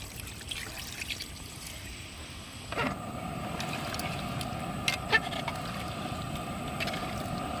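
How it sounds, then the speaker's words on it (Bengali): Water poured into a pan of Bengali desi chicken curry, a steady trickling pour that swells to a fuller, louder splash partway through and continues as a constant bubbling wash close by. "আমরা এবার জল দিয়ে দেবো যেহেতু একটু ঝোল খাবো তো একটু জলটা বেশি করেই দেব"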